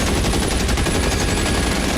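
Continuous machine gun fire from the video game L.A. Noire, a dense, unbroken rattling burst that fills the whole stretch at steady loudness with no pauses.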